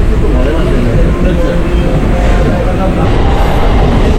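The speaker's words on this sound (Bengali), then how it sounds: "ঠিক টাইমেই ট্রেন ছেড়ে দিল।" Local train pulling out of Sealdah station on the Hasnabad line, heard from inside as a loud, constant rumble of wheels and carriage with indistinct voices mixed in.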